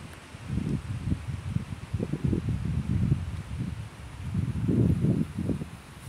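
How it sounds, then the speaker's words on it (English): Wind gusting through leaves outdoors, a low rushing rustle that swells and fades in uneven waves, with no one talking. "The wind's blowing all these leaves."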